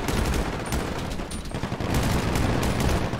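Rapid gunfire in a GTA roleplay game during a bank shootout, dense overlapping bursts of shots cracking in quick succession, loud and sustained with no speech over it.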